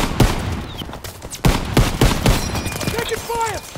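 Bursts of gunfire ring out in the World War II shooter Call of Duty: WWII, sharp loud shots spaced irregularly with whistling effects and shouted voices mixed in.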